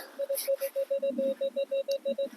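A Minelab X-Terra Elite metal detector, set to a park program, sounds a rapid series of about fifteen short, evenly spaced beeping tones in the field, loud and close, with no talk.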